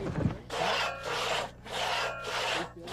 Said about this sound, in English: Why are they sawing that log the hard way?